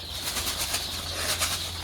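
Birds on a poultry farm flap their wings at night, a soft, continuous fluttering with a few stronger beats over a steady low background hum.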